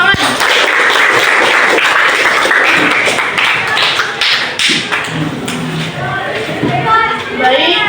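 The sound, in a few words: class applause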